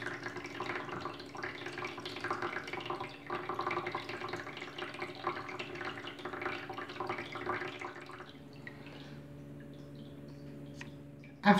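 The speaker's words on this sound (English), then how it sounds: "Excess water leaves once the siphon is full." Water runs steadily from the siphon of a small aquaponics fish tank, a continuous trickling and splashing flow at close range that drops away near the end, leaving a quieter hum and a final brief knock.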